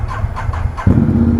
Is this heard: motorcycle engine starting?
yes